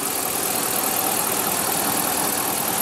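A 2015 Ram 1500's 5.7-liter V8 idles steadily with a dense, constant broadband rumble and hiss that stays even and loud throughout, no voices present.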